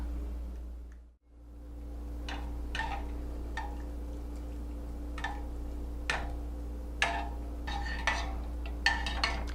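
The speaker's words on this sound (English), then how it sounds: "what I'm going to do is just slowly stir in my cheddar cheese" Cheddar cheese being slowly stirred into chile con queso soup in a pot, a series of light spoon taps and clinks against the pot over a steady low hum, close and without talk.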